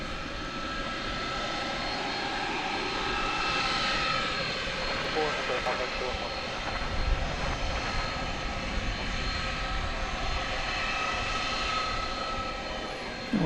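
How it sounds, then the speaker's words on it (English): An American Eagle regional jet departs DFW airport at night, its engines producing a broad steady roar from some distance that swells slightly, while a person talks over it. "Flight going out, American Eagle 4116 to Midland"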